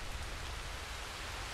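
Steady rain falls in the video game Red Dead Redemption 2, a constant dense hiss with no voices.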